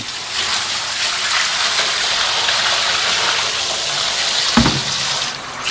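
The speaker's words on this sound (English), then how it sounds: "start the cold water running" Cold tap water runs steadily into a kitchen sink, a continuous broad hiss of flow with a brief clunk near the end and no talking.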